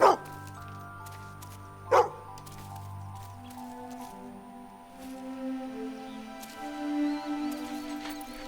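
Dog in the Fable video game giving short game-style barks, two sharp yips near the start followed by a sustained tonal whine, moderately quiet under other game sounds.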